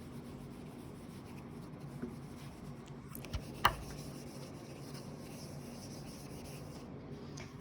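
Writing being erased from a classroom board during a maths lesson: a soft, steady rubbing hiss that runs throughout, broken by a couple of brief knocks near the middle, quiet and with no talk.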